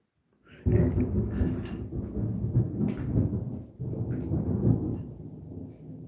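Thunder rolls through a thunderstorm with rain, starting suddenly after a brief quiet and rumbling loudly and continuously with a short dip midway, heard from indoors with no talking.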